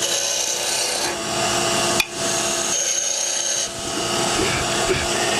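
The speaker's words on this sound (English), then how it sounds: "I use the little end of my parting tool here as kind of a skew" A parting tool on a wood lathe cleaning up spindles, producing a continuous scraping, rasping hiss from the spinning wood with a brief knock and a short dip midway, close up and without talk.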